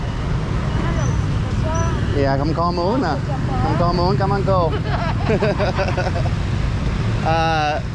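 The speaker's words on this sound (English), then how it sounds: "But the traffic can get a little bit hectic." A busy Vietnamese street fills the background with a constant roar of engines and road noise, while people talk close by over it.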